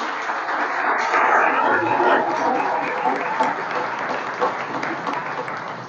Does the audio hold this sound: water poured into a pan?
no